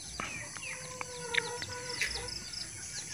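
A young Bangkok rooster, still learning to crow, makes short, unsteady calls among clucks and chirps from other birds, heard at moderate distance.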